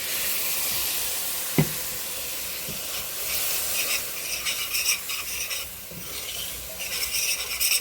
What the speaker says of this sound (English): I'm gonna add a little bit of this reserved clam juice.